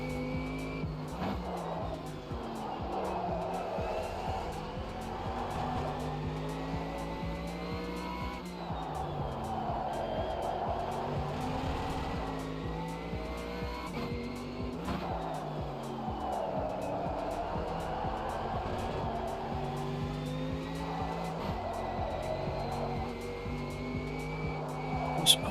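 A GTE race car engine in a racing video game roars close by, climbing and dropping through gear shifts in repeated rising sweeps, with tire squeal mixed in over a steady, loud stretch.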